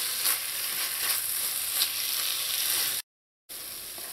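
Tuna pie filling cooks in a pan on low heat with a soft, steady sizzle and occasional faint stirring sounds, broken by a brief silent gap and then resuming.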